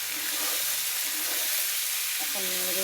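Diced potatoes with turmeric and ground spices sizzle in hot oil as they are stirred in a pan. A steady, loud frying hiss fills the whole stretch, and a brief voice is heard near the end.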